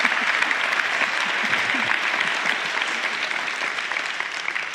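A theater audience at a festival talk breaks into dense, sustained applause, many hands clapping together at a steady, full level for several seconds.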